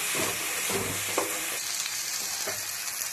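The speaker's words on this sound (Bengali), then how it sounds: "ঘন্টটা আমি ঠিক এরকম নেড়ে নেড়ে একটু শুকিয়ে নিয়েছি, কোনো রকম রস এর মধ্যে নেই।" A dry ghonto of shrimp and kolmi greens is stirred in a pan, a steady soft sizzle with scraping strokes of a spatula at intervals.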